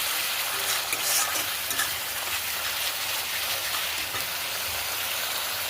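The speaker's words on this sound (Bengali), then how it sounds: "সুন্দর করে সর্ষে পোস্ত বাটাটা কষিয়ে নিচ্ছি" A mustard and poppy seed paste fries and is stirred in hot oil, giving a steady, close sizzle with a soft scraping texture that continues throughout with no voices.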